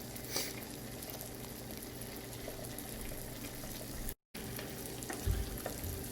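Eggs frying in a pan give a soft, continuous low sizzle with faint bubbling, fairly quiet, and a brief dropout near the end.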